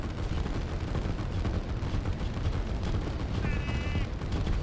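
Tanks and artillery fire in the strategy video game Line War as they push into a defense line. The bursts and explosions form a dense, continuous rumble with crackling gunfire layered over it.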